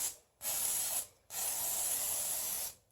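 Two pressurized bursts of WD-40 sprayed onto a floor to loosen leftover tape adhesive, a short hiss followed by a longer, steady one, close and clear with no talking.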